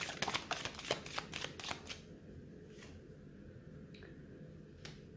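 Tarot cards riffled and shuffled in a quick burst of crisp snapping flicks, then a few softer single slides and taps as cards are drawn, close and fairly quiet.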